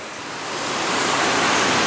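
Strong water pours steadily from a rain-swollen spring on a farm plot, a dense broadband rush that grows slightly louder and stays constant, close by with no talking.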